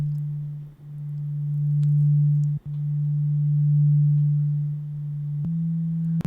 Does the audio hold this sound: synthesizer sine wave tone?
yes